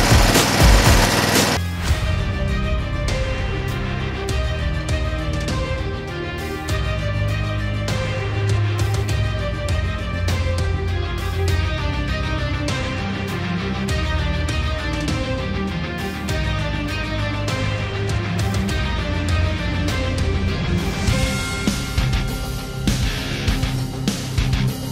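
An engine-driven arc welder runs while stick welding with 7018 rod at about 95 amps. A steady, loud engine drone continues throughout, with dense crackling from the arc on top and no voices.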